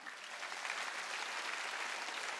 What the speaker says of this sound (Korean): 박수 쳐줘요.